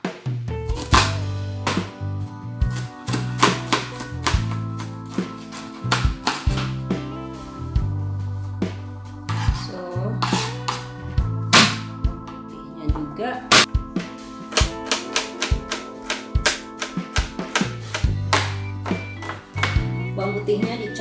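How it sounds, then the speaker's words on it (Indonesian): Garlic (bawang putih) being chopped with a knife on a cutting board while preparing spicy meatballs, giving a steady run of close, sharp rhythmic chops with brief pauses, alongside other thumps. "Putihnya dicop juga"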